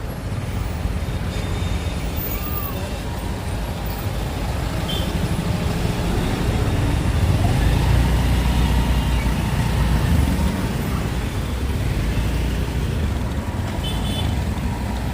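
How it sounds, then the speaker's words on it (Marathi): Road traffic in a heavy jam at Karjat Charphata, heard from a railway bridge above: a steady, dense rumble of idling and creeping cars, trucks and buses, with occasional faint horn toots in the distance. "मोठ्या प्रमाणावर वाहतूक कोंडी या ठिकाणी झालेली दिसते"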